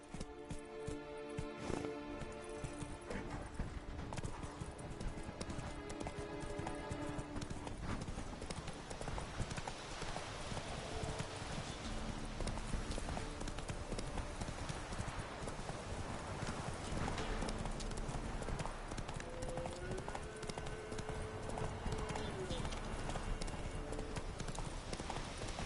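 Roach, the horse in the video game Witcher 3, gallops in a steady, continuous clip-clop of hooves that runs throughout over a dense layer of game ambience and music.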